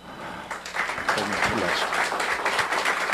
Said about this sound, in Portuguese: Então, vamos recebê-lo com um aplauso.